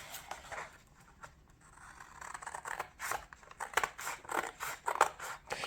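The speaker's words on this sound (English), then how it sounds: "And cutting the cardboard here out" Scissors snip through cardboard while a bookmark is being cut out, a series of close, crisp crunching cuts that grow louder and more frequent toward the end, with no talking.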